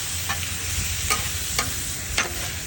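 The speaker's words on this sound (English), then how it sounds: "the lobster's cooking in the butter, in its own juices. It's just reducing down." Lobster cooks in butter and its own juices on a Blackstone griddle, a steady close sizzle with a few quick spatula scrapes cutting through.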